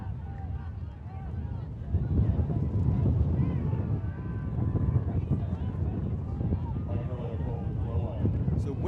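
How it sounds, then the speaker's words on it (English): Strong wind buffets the microphone outdoors at a club championship ultimate frisbee game, a constant low, roaring rumble that swells and dips throughout, with faint muffled voices beneath it. "Wind's been the big story this weekend."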